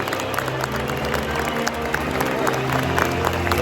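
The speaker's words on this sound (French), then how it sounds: "Applaudissez." A stadium crowd at the Nigeria versus Morocco semifinal applauds steadily, a dense wash of clapping and crowd noise heard from within the stands.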